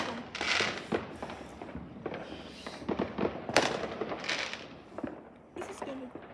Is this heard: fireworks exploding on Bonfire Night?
yes